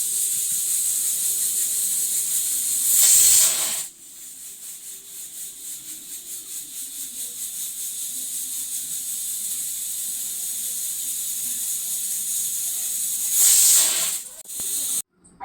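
A pressure cooker cooking North Karnataka pundi palya lets out two loud, sharp steam whistles several seconds apart, with a steady hiss running between them.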